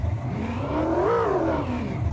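A looped 1960s V8 engine gives off a higher-pitched roar, climbing and then easing back down in a single smooth rev over a continuous droning base.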